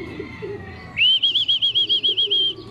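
A racing pigeon lands during a training toss with a burst of rapid, rhythmic wingbeats, about a dozen loud, close flaps in quick succession, after a brief stretch of quieter background.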